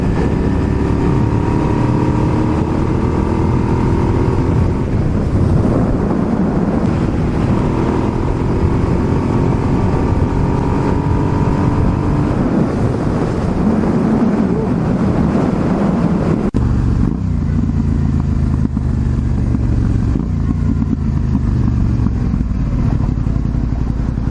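Heavy wind roars over a motorcycle riding along a highway, a loud, constant rushing buffet with engine drone underneath and a slight change in tone partway through.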